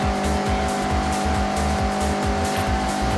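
A Mazda MX-5 in the Forza Horizon racing game is driven hard. Its engine drones steadily while the tires squeal and skid continuously through sideways cornering, loud and with no talk over it.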